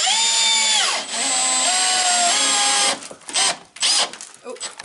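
A power drill drives screws into Durock cement board for a bathtub surround, the motor whining in several sustained bursts that ramp up and wind down, close and loud, then breaking into short choppy pulses near the end.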